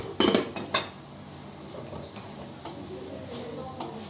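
A stove knob clicks two or three times in quick succession as the burner under a pot of rice pilaf is shut off in a home kitchen, sharp and close, followed by a quiet low hum.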